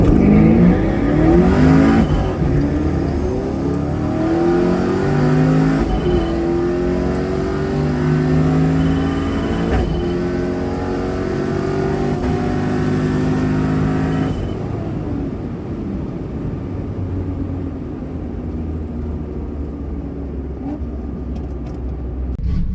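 A Chevelle or Cutlass at LS Fest 2023 launches in a drag race, its engine roaring loud and close through rising gear pulls that swell and then settle to a steadier drone.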